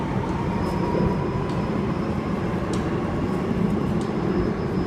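A Sydney Trains East Hills line service departs platform 2 at Circular Quay, a continuous, fairly loud rail rumble and motor drone that stays steady throughout, with no voices.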